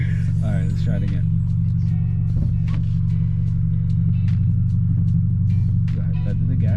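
Manual car fitted with a racing clutch idles with a loud, steady low rumble as the gas is feathered, with voices talking over the engine throughout.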